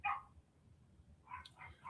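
Dogs barking in a home, a sharp bark at the start and a cluster of barks near the end, fairly close, with quiet room noise between them.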